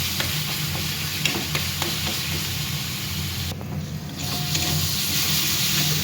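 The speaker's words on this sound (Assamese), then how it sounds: "মছলাখিনি ভালদৰে ভাজি ল'ব আপোনালোকে।" Masala spices with roasted cumin powder fry in a pan for a bhakua fish curry, a steady close sizzle broken by the soft scrapes of stirring throughout, with no talking.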